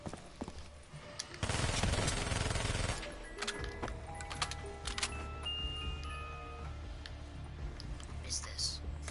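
A gun firing in a video game: a sustained burst of rapid automatic fire, followed by scattered sharp shots and mechanical clicks, with a person talking over parts of it.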